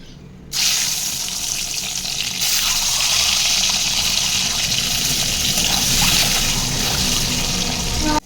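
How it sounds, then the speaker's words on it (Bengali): Eggs frying in hot oil seasoned with turmeric and salt in a home kitchen, a loud, steady bright sizzle that bursts in abruptly and holds, swelling slightly partway through, with no talking. "দিয়ে আমি ডিমগুলো প্রথমে ভেজে নেবো"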